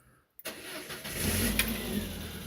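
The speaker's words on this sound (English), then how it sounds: "I've got the engine on." A 2.2-litre petrol injection Phase 3 car engine, under test after a cooling fan motor and radiator replacement, starts after a brief silence and settles into a steady, close running hum for the rest of the clip.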